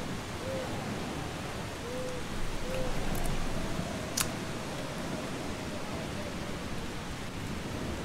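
Steady rain hisses through a scene in the video game Eastshade, a constant broadband wash with no pauses, joined by a few faint melodic tones and a brief sharp crackle near the middle.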